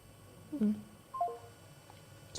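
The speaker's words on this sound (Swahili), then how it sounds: "Acha nipige hii namba yake nyingine" A phone dials a number with a few faint, brief tones spaced apart over a quiet room background.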